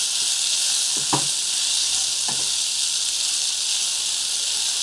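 Potato and eggplant pieces frying in an open pan, a loud, steady, close-up sizzling hiss with two brief knocks or scrapes of a utensil partway through.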